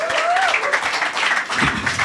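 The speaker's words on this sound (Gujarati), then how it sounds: "એવરીબડી ધ્રુવ માટે તાળીઓ થઈ જાય" A live audience claps to welcome a magician onto the stage, a short burst of fairly close applause with faint whistle-like tones over the top.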